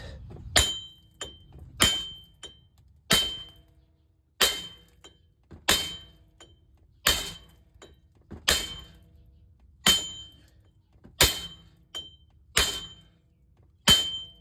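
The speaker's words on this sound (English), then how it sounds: "I'm gonna try pound this out." Hammer blows pounding out a rusted wheel bearing on a 2008 Acura MDX, about a dozen sharp metallic strikes spaced roughly a second apart, each ringing briefly before fading, close and loud with no talk.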